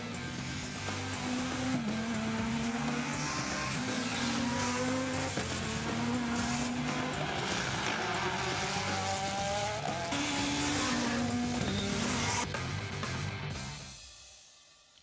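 Rally cars race flat out on the Tour de Corse stages in Corsica, engines wailing and shifting pitch as they pass, with occasional tyre noise, before the sound fades away at the end.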